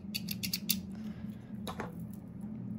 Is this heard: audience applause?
no